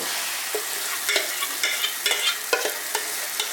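Paste poured into a hot pan for paneer butter masala, frying with a steady broadband sizzle and several sharp spattering bursts and scrapes, close and fairly loud, with no talking.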